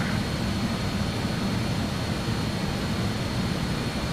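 Loud, steady cabin roar of a Just Flight RJ100 airliner in Microsoft Flight Simulator, a dense broadband rush with a low engine rumble underneath and no variation.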